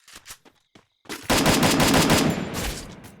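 Rapid automatic gunfire in Garena Free Fire, a few scattered single shots leading into a loud sustained burst that fades toward the end.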